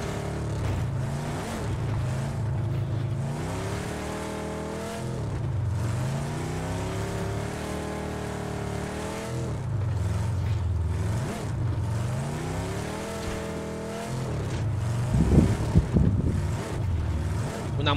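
A motorboat engine drones steadily for the whole stretch, its pitch swelling and falling in repeated surges, with wind and water noise and no talk.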